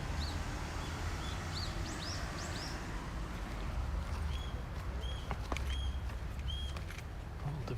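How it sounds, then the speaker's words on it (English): Various birds chirp outdoors in Tokyo, Japan, with scattered short high calls and tweets over a steady murmur of city traffic and ambient noise, moderately distant, with no speech. "All different birds are here."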